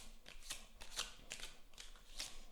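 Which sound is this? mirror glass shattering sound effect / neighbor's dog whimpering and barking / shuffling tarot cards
shuffling tarot cards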